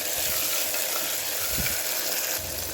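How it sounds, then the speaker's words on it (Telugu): Tomatoes and onions fry in a pan for egg pulusu, giving a loud, steady sizzle with a faint bump of stirring midway, with no voices. "ఇప్పుడు ఈ 2 టమోటాలు ఇవి కూడా బాగా వేయించుకోవాలి మెత్తపడిందాక"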